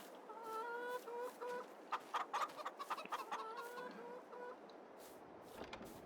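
A rooster in Farming Simulator 22 crows and clucks in several short bursts over steady background noise, with a few sharp clicks mixed in.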